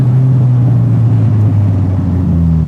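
A Nissan S14 Rocket Bunny drift car's engine runs loud and steady for a few seconds, a deep continuous drone with a slight pitch shift near the end and no speech.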